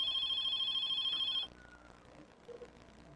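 A telephone rings loudly on a live television set, a steady electronic bell tone lasting about a second and a half before cutting off, leaving quiet room noise.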